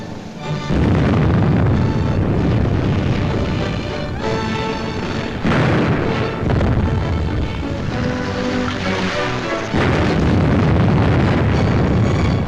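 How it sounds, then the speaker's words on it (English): Archival WWII artillery bombardment of Warsaw, with heavy guns pounding the city: loud, continuous rumbling booms and blasts that stay dense and sustained, swelling in bursts without a pause. "The huge guns subjected the city to a bombardment of incredible fury"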